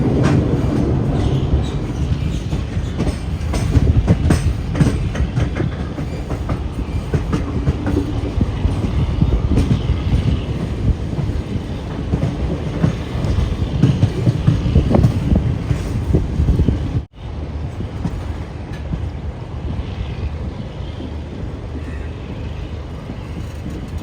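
A Garib Rath Express train runs along the tracks toward Ernakulam Junction in Kerala, giving a loud, steady rumble and rhythmic wheel clatter close by, with a brief sharp dip near the end before the rolling noise carries on.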